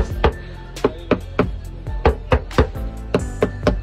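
Knuckles knock on a sound-damped Tata Nexon car door, a series of about a dozen dull, solid thuds in an uneven rhythm, close up and alone.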